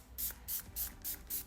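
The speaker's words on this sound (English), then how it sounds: "I'm going to go in with the Beaubble spray." Five short bursts of Beaubble facial spray hiss out in a steady rhythm, each puff close and soft with brief quiet gaps between.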